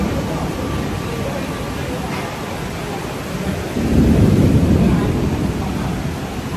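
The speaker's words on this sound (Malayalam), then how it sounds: "നല്ല മഴ പെയ്യുന്നത് പുറത്ത് കാണുന്നുണ്ടോ? നല്ല മഴയാണ്." Heavy rain pours steadily outside a Kuala Lumpur shopping mall, with a deep rumble of thunder swelling up midway and lingering loudly beneath the constant downpour.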